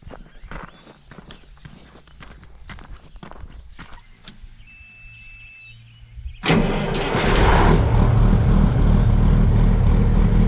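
Soft footsteps and light clopping give way to a farm tractor engine that suddenly roars to life and keeps running loudly and steadily, left to warm up.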